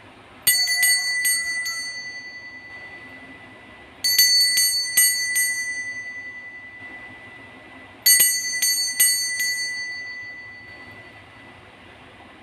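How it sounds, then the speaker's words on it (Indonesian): A bright metallic bell rings in three separate bursts, each a quick cluster of clear dings that rings out and fades, spaced evenly about four seconds apart over a quiet background. "lonceng berbunyi."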